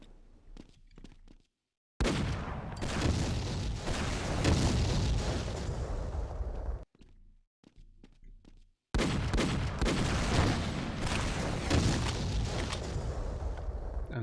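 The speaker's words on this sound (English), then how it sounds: "That's a rocket launcher." Loud rocket-launcher blasts and gunfire in the video game Half-Life 1 fill two long, dense stretches of booming, crackling combat, separated by a short quieter gap with a few isolated hits.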